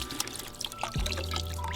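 Water draining out of a Graco 390PC cordless paint sprayer, a short, close trickle and pour with a few brief splashy spurts.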